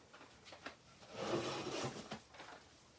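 A drawer of craft embellishments such as pearls and rhinestones slides open with a soft woody rumble and rattle, quiet and close, with no talking.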